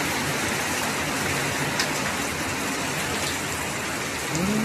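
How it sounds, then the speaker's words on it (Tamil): Heavy rain falls steadily in Palayam, Dindigul district, a dense, even hiss of drops on surfaces with occasional louder splashes, continuous and fairly close. "நல்ல மழை பெய்யுதுங்கோ."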